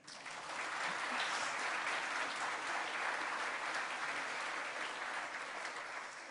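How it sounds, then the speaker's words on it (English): A seated crowd at a civic gathering gives a sustained round of applause, a broad, even wash of many hands clapping that swells in quickly and holds, heard at a slight distance. "So please now applaud."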